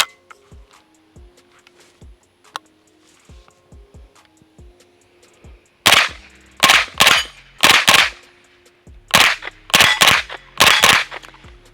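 Suppressed MKE AP5 (MP5 clone) submachine gun fire on a range, with short bursts of sharp, close reports in quick clusters after several seconds of faint ticking and quiet.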